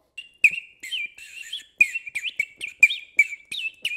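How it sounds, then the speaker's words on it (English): A water-filled 3D printed bird whistle gives bright, warbling chirps in quick bursts with short gaps between them. It is close, loud and clear, with no talking. "you're supposed to put water in this and then it sounds like a bird"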